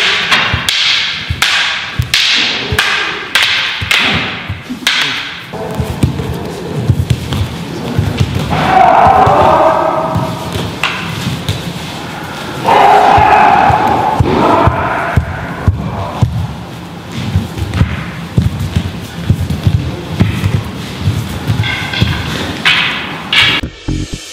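Kali Eskrima double sticks strike in a fighting drill, giving a series of sharp cracks and thuds, sometimes in quick bursts, amid room noise and occasional voices.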